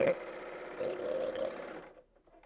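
Serger joining the short ends of fabric into a cylinder, a steady mechanical whir running for about two seconds before stopping, then near-silence.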